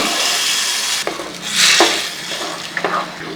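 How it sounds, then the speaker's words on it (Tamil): Cooked butter beans with their water slosh into a hot pan for kurma, then stirring and soft sizzling follow with a few clinks of utensil against metal. "நம்ம வேக வச்சிருக்கிற அந்த கொட்டையும் சேர்த்து தண்ணியோடு ஊற்றிடலாங்க"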